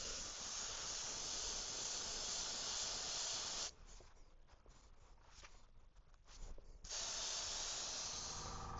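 An airbrush sprays paint onto a 3D-printed shad fishing lure, a close steady hiss that cuts out for a few seconds, sputters in short bursts, then resumes.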